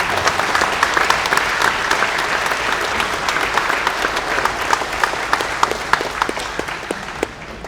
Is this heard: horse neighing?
no